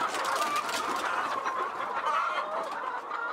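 Chickens on a Ugandan poultry farm holding over 2,000 birds, a dense continuous chorus of clucking from many hens, steady and moderately loud with no talking.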